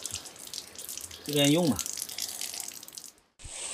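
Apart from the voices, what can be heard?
water running from a faucet with low flow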